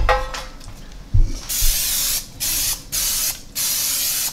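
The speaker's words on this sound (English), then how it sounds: "we need to spray our pans with cooking spray" A short click, then several hissing bursts of cooking spray onto bread pans, close and steady, with brief pauses between them.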